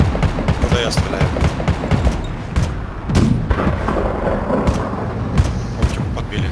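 Tank cannon and machine-gun fire in a video game, a dense run of booms and rapid shots over continuous rumble, with someone talking over the battle.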